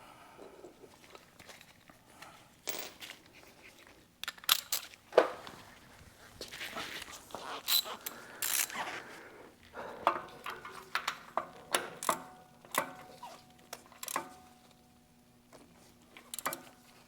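Ratchet tightening a fuel fitting on a Yanmar 1500 tractor under restoration: irregular bursts of close, sharp mechanical clicks and ticks with brief pauses, no talking.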